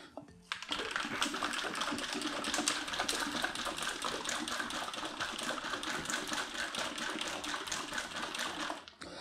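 Mixing balls rattle inside a resin bottle for a 3D printer as it is shaken hard, a steady, dense clatter of rapid hard clicks that runs close and loud for about nine seconds without a break.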